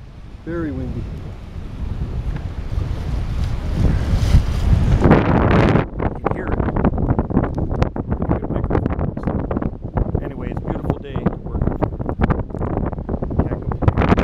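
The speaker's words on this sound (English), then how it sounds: "Very windy." Strong wind buffets the microphone at a long dock on the water, a loud, continuous roar with gusty rumble and scattered clatter, while a person talks briefly near the start.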